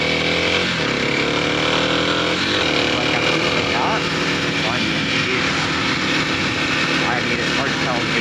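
Kawasaki KLX 300 dirt bike engine pulling hard and steady with a rising, buzzy drone throughout, close and loud, with a rider's voice faintly under it.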